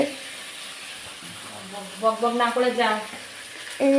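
Food sizzling in a hot pan in a home kitchen, a steady close hiss under a woman's humming or singing voice.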